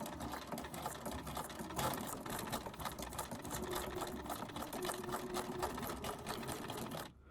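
Sewing machine stitching around a junk journal tag runs continuously at a steady, rapid rattling pace for several seconds, close and fairly quiet, with the needle's chatter holding even until it stops near the end.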